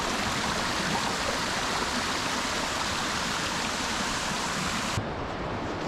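Mountain torrent in the Écrins range, a loud, dense, continuous rush of fast-flowing water heard close by with no voices.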